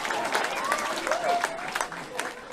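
Scattered clapping from an audience in Hawaii rattles along with shouts and chatter from the crowd, moderately loud and uneven.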